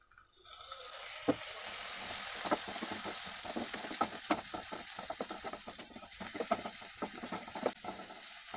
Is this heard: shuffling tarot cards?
no